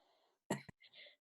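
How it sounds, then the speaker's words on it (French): A single short cough bursts out close by, with a small second catch right after it, between quieter stretches of faint breathy background sound. "Ça me fait tousser."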